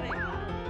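A cartoon dog gives a single short, bright bark at a dog contest, one quick yelp standing alone.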